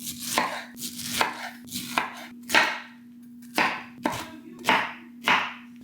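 A knife chopping a pink pineapple on a board, about a dozen sharp, close cuts at an uneven pace with short pauses, alone over a faint steady hum.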